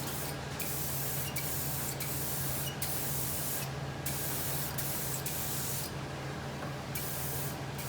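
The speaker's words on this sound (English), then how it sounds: "So you're just going to simply spray that through" Matte finish lacquer is sprayed onto a leather dashboard in a steady, continuous close hiss with short regular pauses between passes.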